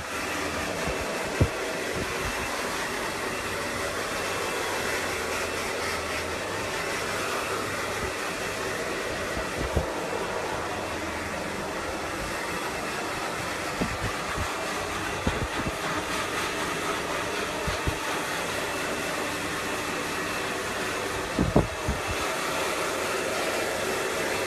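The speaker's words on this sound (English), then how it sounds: "the way that I blow dry it shows how beautiful this product is working" A hair dryer blows steadily and loudly throughout while short hair is blow-dried during a women's haircut, a continuous broadband rush with a few faint knocks and clicks.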